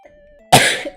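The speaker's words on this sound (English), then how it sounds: "I need to cough." A single sharp cough bursts out abruptly after a moment of near silence, close and fairly loud, then trails off with a short breathy throat sound.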